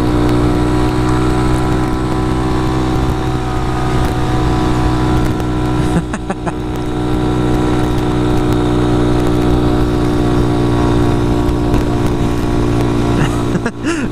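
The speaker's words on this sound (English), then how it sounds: "The thumper, little one-cylinder engine, is vibrating like crazy." A Honda Grom's single-cylinder engine drones loudly and steadily while climbing a hill in third gear, with a brief dip around the middle before the strained hum resumes.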